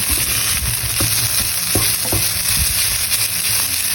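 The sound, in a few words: salmon frying in a pan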